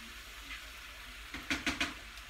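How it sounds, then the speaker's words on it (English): Brussels sprouts sizzling in butter in a pan, a quiet, steady frying hiss with a few sharp stirring clatters near the end, heard close with no talking. "You can hear it sizzling."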